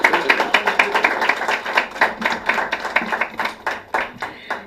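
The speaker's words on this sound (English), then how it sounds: "A big round of applause once again." An audience at a school award ceremony applauds finalists in a grand finale, giving a burst of crisp, fairly loud clapping with rhythmic peaks that continue for several seconds, with no talking.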